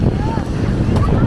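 Strong wind buffets the microphone outdoors in Bali during the December rainy season, a loud, steady low roar over the whole brief moment, with a voice faintly underneath.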